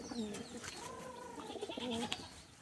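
Pigeons coo in short, soft, rolling phrases several times in a row, fairly close but quiet, with a faint voice now and then in the background.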